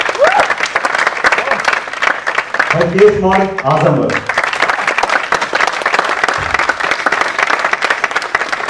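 An audience claps steadily and energetically in continuous applause for children, with a voice announcing names partway through over the clapping.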